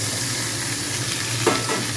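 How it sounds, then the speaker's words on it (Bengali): Fried fish head goes into a pan with a little oil, setting off a steady, close sizzle with a brief stirring scrape near the middle; no one speaks. "মাছের মুড়ো অল্প তেল এই ভাজা অবস্থায় রেখে দিলাম আর এই অবস্থাতেই আমি দিয়ে দিচ্ছি"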